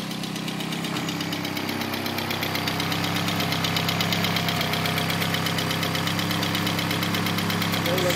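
A tuned Mk2 VW Golf with a draw-through turbo and a tacked-up exhaust runs at a steady idle, giving a loud, close, continuous rumble with a rapid, even pulsing throb.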